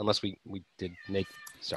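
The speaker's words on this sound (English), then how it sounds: "that's my cat back there. She knows when I'm on the calls." A pet cat meows in the background during a video call, a short high cry mixed in with a person talking in the foreground.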